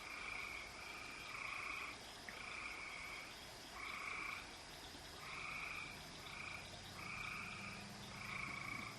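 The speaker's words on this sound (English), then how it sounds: "It's a bayou. It's crickets and water" Repeated bursts of cricket trilling pulse at an even pace over a steady bayou water hum, with no voices, a calm night-swamp atmosphere.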